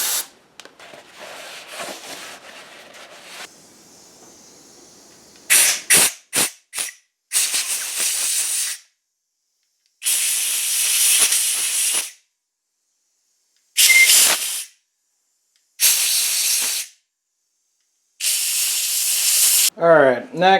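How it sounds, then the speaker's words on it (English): Compressed air blasts out the head bolt holes on a Farmall 560 diesel engine, in a series of loud, close hissing bursts lasting one to two seconds each, separated by silences, after some earlier low background noise. "we're still gonna have to blow out the bolt holes"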